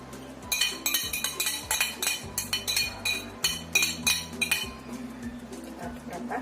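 A spoon stirring a savory snack batter in a bowl, clinking repeatedly against the side in an uneven rhythm of bright taps, close and fairly loud with no voices.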